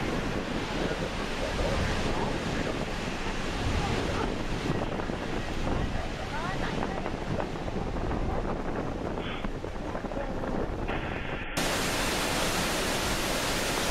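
Thundering water of Niagara's American Falls heard close from below, a dense, loud, continuous roar with wind buffeting the microphone throughout.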